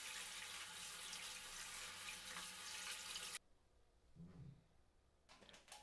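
A dirty Commodore 64 circuit board is rinsed under a running tap, giving a steady splashing gush that cuts off abruptly, followed by faint drips and handling noises.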